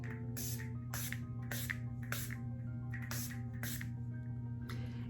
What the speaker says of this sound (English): you can actually use this as a setting spray. And it's a very, very fine mist.